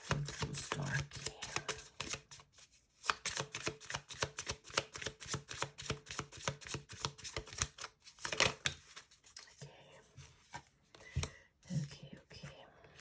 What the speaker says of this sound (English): Pull just a few more cards just to conclude this reading for Drew Starkey.